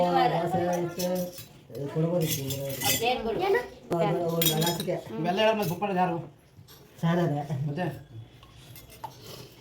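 Metal cooking vessels and utensils clink and scrape as they are handled in a home kitchen, with people talking over the sparse clatter throughout.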